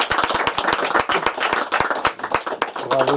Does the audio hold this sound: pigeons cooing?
no